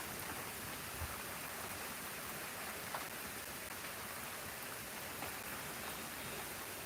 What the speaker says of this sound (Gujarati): અમારે તો વરસાદ અત્યારે ચાલુ થઈ ગયો છે